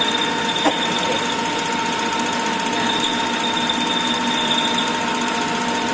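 Siemens 808 CNC lathe taking a cut along the outer side of a workpiece, a steady high mechanical whine and hum with a sharp tick near the start, running alone at constant level.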